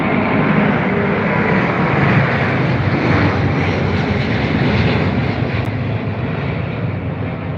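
A British Airways Boeing 787 with Pratt & Whitney engines taking off at Heathrow, a loud, continuous jet-engine roar that holds steady throughout with no talk.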